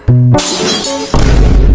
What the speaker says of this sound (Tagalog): nabasag ko yung salamin ng barangay hall